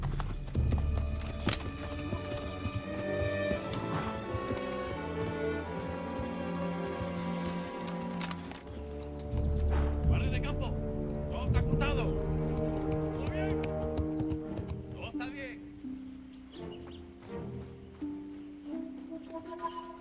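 Horses clip-clop along with hooves thudding and a whinny rising among them, under people talking and background music.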